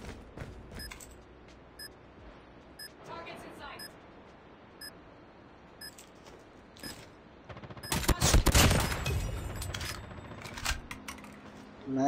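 Video game rifle gunfire sounds as sparse, sharp shots early on, then a louder, dense burst of rapid fire with clattering hits toward the end, under low background game noise.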